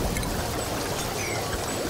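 Water pouring and rushing in Oxygen Not Included, a dense, steady wash of noise lasting a couple of seconds, loud and close with no voices.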